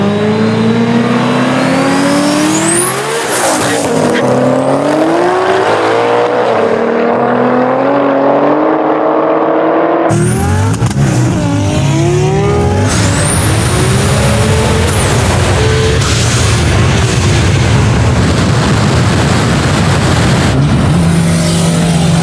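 A 1000HP twin-turbo Mustang GT and a 900HP 2JZ-swapped BMW E92 race: loud, close engines rev hard through rising gear sweeps, then an abrupt cut to another roaring, revving pass with no talking.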